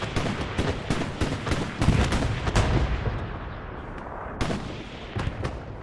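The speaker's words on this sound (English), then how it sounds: "So there you can see the initial rounds coming in for the Axis SPA." Axis self-propelled artillery shells landing on a Kursk battlefield in a 40-versus-40 tank game match: a series of sharp, heavy impacts and gun reports, some closer and booming, others fainter, spaced irregularly amid background battle rumble.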